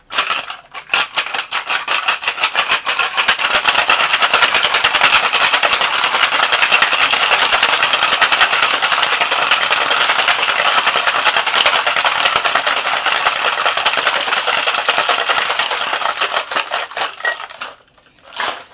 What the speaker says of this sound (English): Let's give a good strong shake so that we blend everything well together.